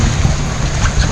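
A tour boat docks at Koh Poda in Phi Phi Islands National Park, Thailand, with a steady close engine drone and wash of wind and water, no voices.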